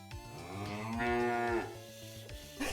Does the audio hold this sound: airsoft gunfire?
no